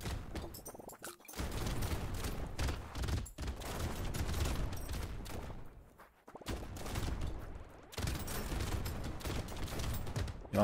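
Rapid rocket launcher fire and explosions from the Brotato video game play as dense, continuous bursts of gunfire-like blasts, loud and alone, with brief dips in the barrage.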